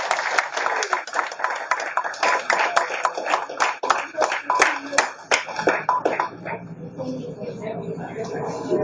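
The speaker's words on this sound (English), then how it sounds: "So let us give them a round of applause." Audience applause for guest speakers after an afternoon talk at a presentation, a dense burst of hand claps up close that thins out toward the end as voices begin under it.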